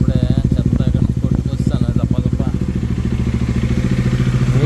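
A Bajaj Dominar 400 motorcycle fitted with a BMC air filter chugs with rapid, loud pulsing engine thumps, rising and settling as the throttle is worked, with a voice briefly audible near the start.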